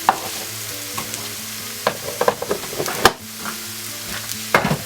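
Garlic fried rice stir-fried in a hot wok, a continuous sizzle with scraping and clattering bursts as the rice is tossed and stirred.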